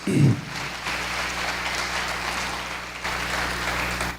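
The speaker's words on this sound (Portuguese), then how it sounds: "Irmãos, pode aplaudir Jesus por isso" A congregation applauds during a church sermon, a continuous, even wash of clapping from many people lasting several seconds, moderately loud, with a low hum underneath.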